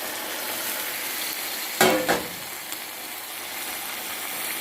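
Ackee being gently folded into saltfish in a frying pan, a steady close sizzle with one brief louder scrape and stir around the middle, no talking.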